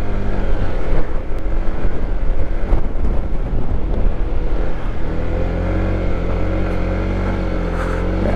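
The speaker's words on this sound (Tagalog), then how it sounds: "Lakas pa ng hangin." Strong wind roars and buffets the microphone in steady, gusty bursts on a high, cold mountain area in Nueva Vizcaya, Philippines, low and loud throughout with no one speaking.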